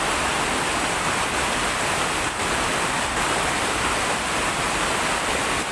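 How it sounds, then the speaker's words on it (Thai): Heavy water rushes continuously in a creek, a dense, steady roar without breaks. "ห้วยสะเทครับ ท่านผู้ชม น้ำมาก เลยทีเดียว"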